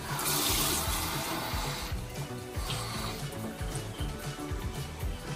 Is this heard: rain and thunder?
no